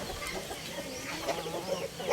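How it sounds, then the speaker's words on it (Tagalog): Rhode Island Red chickens cluck softly and intermittently nearby, with short murmuring calls over a low ambient background. "Mao ni ang mga manok nako"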